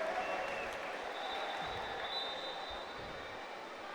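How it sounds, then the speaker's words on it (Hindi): Crowd applause at a water polo match between India and Thailand at the Asian Aquatics Championships, a steady, fairly faint wash of clapping and crowd noise echoing in an indoor pool hall, with a voice talking over it. "यहाँ तालियों की गिड़गिड़ाहट"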